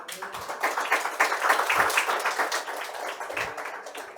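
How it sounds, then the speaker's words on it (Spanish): A church congregation applauds during a sermon, with a mix of rhythmic and scattered clapping from many people and a few low thumps, moderately loud and unaccompanied by talk. "Denle un aplauso al Señor."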